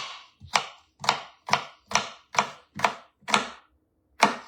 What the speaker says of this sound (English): I'm going to cut this capsicum up